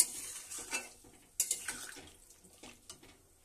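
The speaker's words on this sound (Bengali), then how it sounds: "আমার জল যেরকম রাখবো ঝোল, সেই মতো আমি জলটা দিয়ে দিচ্ছি এখানে।" Water is poured into a cooking pot for a carp fish curry with drumsticks, with clinks and knocks of metal cookware and a light splash, close and fairly quiet, with no talking.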